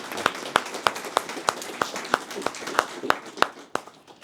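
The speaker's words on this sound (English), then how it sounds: "Another round of applause" An evening community meeting audience claps for a speaker. A handful of distinct, close hand claps stand out in a fairly regular rhythm over a softer bed of scattered clapping.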